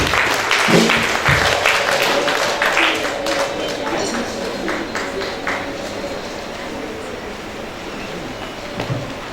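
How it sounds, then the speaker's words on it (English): Audience applause at the Mineral Heights Christian Preparatory School 2023 graduation, sustained dense clapping from a large crowd that tapers gradually, with voices mixed in. "big round of applause"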